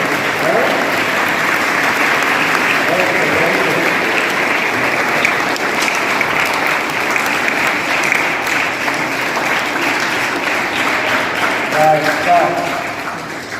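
Sustained loud applause fills the hall as a school crowd at a Jawahar Navodaya Vidyalaya prize distribution cheers competition winners, a thick continuous wash of clapping that holds steady throughout with faint voices mixed in.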